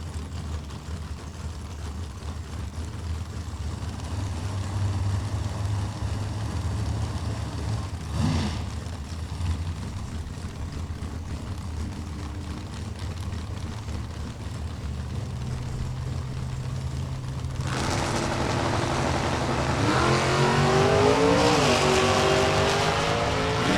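A C5 Corvette launches in a drag race at a Topeka strip, engine noise building from a steady idle-like drone into a louder, harsher roar toward the end, with a brief sharp burst partway through.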